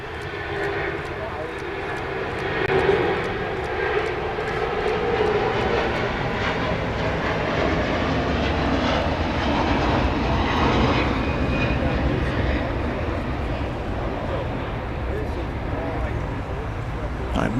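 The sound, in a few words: Hawaiian Airlines plane taking off at LAX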